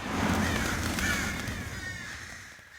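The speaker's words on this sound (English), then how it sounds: "That's a lot of crows." A crowd of crows in the video game True Fear: Forsaken Souls caws over one another in a dense, continuous chorus that gradually fades toward the end.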